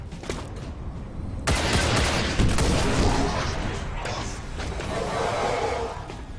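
Volley of rockets launching and exploding in the turn-based strategy game XCOM 2, a loud sustained roar of blasts and rumbling debris that swells after a brief lead-in and rolls on for several seconds.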